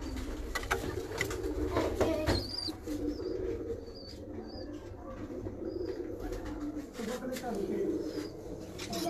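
Breeder pigeons in a loft, including dab pigeons with liver-coloured eyes, keep up a low, rolling cooing throughout, with faint chirps, under someone speaking close by.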